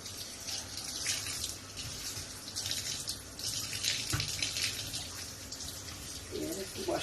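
Running tap water pours steadily over fresh thyme and scallion being rinsed at a kitchen sink, a continuous close splashing wash with slight changes as the herbs move under the stream.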